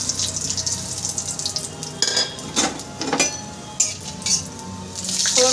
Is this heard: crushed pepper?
yes